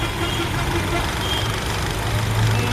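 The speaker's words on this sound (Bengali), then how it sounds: "তো ইঞ্জিন দেখতে পাচ্ছেন এখন স্টিল স্টার্ট আছে," Toyota Axio engine idling with some engine covers still removed after repair, a steady low hum throughout.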